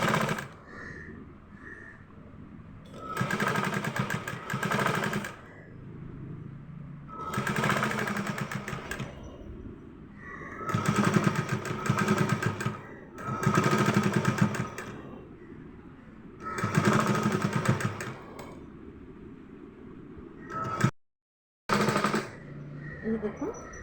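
A sewing machine stitches a heart-shaped piece for a teddy bear in repeated bursts of a few seconds each, loud and close, with short pauses between runs and someone talking in the gaps.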